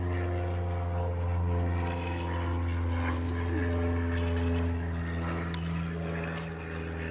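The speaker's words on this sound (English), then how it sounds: "Great, I got an airplane going overhead." A propeller airplane passes overhead with a steady droning engine hum that swells and fades slightly, heard alone outdoors in a garden.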